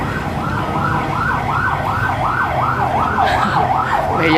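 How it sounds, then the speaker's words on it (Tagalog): An ambulance siren wails in a repeating up-and-down yelp, loud and nearby, over the rumble of road traffic. "Mahihain kayo, may ambulansya."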